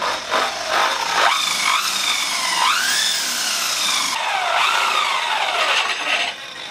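A drill bit bores a hole through a plastic headlight lens on an Altezza drift car, giving a loud, continuous whining grind that rises and falls in pitch for several seconds.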